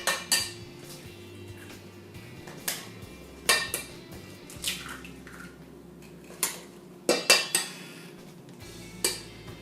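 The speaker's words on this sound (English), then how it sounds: "Now it's time to crack your eggs" Eggs being cracked against a bowl for lemon bars, with several sharp, close taps and clinks spaced a second or two apart over a quiet, hollow room tone.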